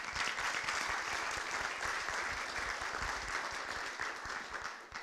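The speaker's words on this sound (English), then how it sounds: "so everyone please give him a round of applause" Town hall meeting attendees applaud a deputy fire chief, a steady, fairly distant round of clapping that fades slightly at the end.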